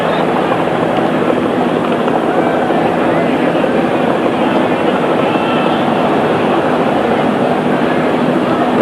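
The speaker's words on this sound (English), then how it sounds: "The sound of helicopters in the background." Helicopters drone steadily in the background of a 1980 baseball All-Star Game broadcast, a dense, continuous rumbling wash that holds at one level throughout, with no commentary over it.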